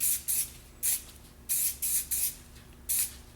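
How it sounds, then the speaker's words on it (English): A rattle can sprays dark orange paint onto model railway rails and removable gateway pieces in short hissing bursts, about eight sprays with pauses between, close and clear with no talk. "So now we're going to spray a little bit of the dark orange in the middle of the rails"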